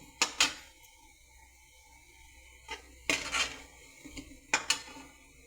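Fried gulab jamun are lifted out onto a plate, a handful of sharp metallic clinks and scrapes of a utensil against cookware, separated by quiet gaps.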